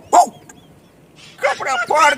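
A dog barks once sharply, then after a pause a quick series of three barks follows, close and loud against a quiet background.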